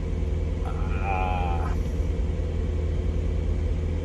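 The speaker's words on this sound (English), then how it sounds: "That's how the car is idling. Honestly, running really smooth." A 1993 Nissan 240SX S13, freshly fitted with a new distributor, idles with a steady low rumble that holds constant throughout, while a brief higher tone rises over it near the start.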